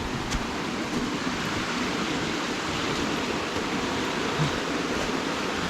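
A river flows steadily beside a hiking trail in Corsica near the abandoned hamlet of Fiuminale on a very hot day, giving a constant, fairly close rushing wash of water with no break and no voices.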